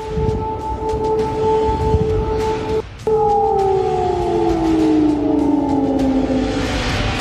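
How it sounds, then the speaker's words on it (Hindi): A loud steady air raid siren in Kyiv, Ukraine, during the Russia-Ukraine war, wails on a sustained tone, briefly cutting out before resuming and slowly sliding lower in pitch. "कीव के लोग एयर रेड सायरन की कानफोड़ी आवाज से पूरी रात जाग कर काट रहे हैं"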